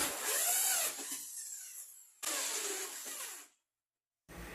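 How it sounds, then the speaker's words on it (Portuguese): A 100 mm hole saw on a power drill cuts holes in a concrete countertop mold, whirring and grinding in two short bursts separated by a pause, then starting again at the end. "Para fazer o furo maior no centro da forma, vou usar essa serra-copo de 100 milímetros"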